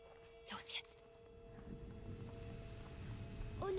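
Rain falls steadily in the medieval game A Plague Tale: Innocence, a soft broadband patter that grows slightly louder toward the end, with a couple of brief sharp sounds early on and a steady tone running underneath.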